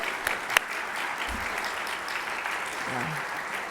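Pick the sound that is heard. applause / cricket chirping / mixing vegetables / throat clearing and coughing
applause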